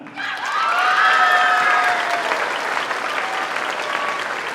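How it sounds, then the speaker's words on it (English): A crowd in a school gymnasium breaks into applause at an all-city band concert, swelling quickly into full, dense clapping with a few cheers and voices, then holding steady. "Next, a round of applause for Rania Adnan"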